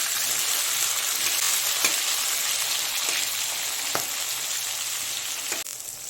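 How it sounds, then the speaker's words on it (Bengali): Pointed gourd (potol) fries in oil with only salt, making a loud, continuous bubbling sizzle with a few sharp crackles and pops, and no voices. "তাই শুধু নুন দিয়ে পটলগুলোকে ভালো করে ভেজে নেব।"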